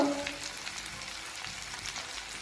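Asafoetida sizzling in hot oil while sambar is cooked, a steady crackling fry heard up close with no talk over it.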